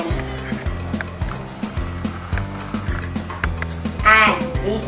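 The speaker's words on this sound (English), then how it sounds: "And this one is hen." A hen clucks in quick repeated bursts, close and fairly loud, with a sharper higher call near the end.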